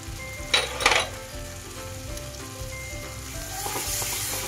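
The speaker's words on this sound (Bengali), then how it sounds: "এই দিয়ে মশলাটা আবারও কিছুক্ষণ আমি ভেজে নেব।" Steady oily sizzle of spices with cashew, poppy seed and melon seed paste frying in a pan, with a couple of louder stirring scrapes early on and a constant crackling hiss throughout.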